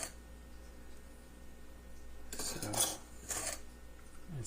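A small scoop digging into a pile of sugar for baking a cake from scratch, two close gritty scrapes with a faint clink, a moment apart against a quiet room hum, following a single spoken word.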